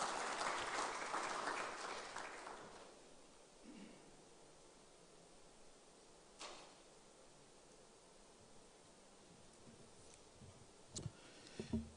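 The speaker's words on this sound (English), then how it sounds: "A round of applause for him as he joins us here." Applause from a crowd fills the first few seconds, then fades into a quiet room with a few faint clicks and rustles.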